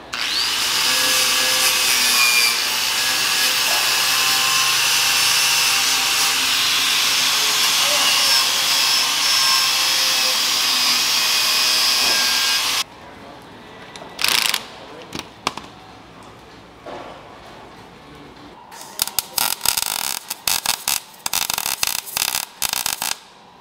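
A wire wheel on a power tool scours a 1936 Ford transmission crossmember with a loud, continuous abrasive whir for about thirteen seconds, then cuts off. Quieter intermittent bursts and scrapes follow as people talk.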